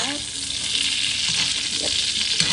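Steak frying in a pan with garlic and spices, a steady, close, dense sizzle that holds at an even loudness for the whole stretch, with no talking.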